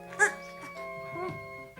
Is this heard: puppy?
yes